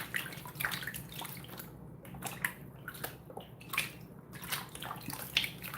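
Water sloshing and swirling in a gold prospecting pan heavy with black sand concentrates, a steady close wash with repeated splashy surges and small drips, no talking.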